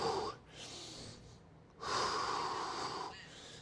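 Deep, audible breaths during a lower-body and core workout, two long airy inhale-exhale cycles with a sharper rush near the middle, close and fairly quiet with no talking.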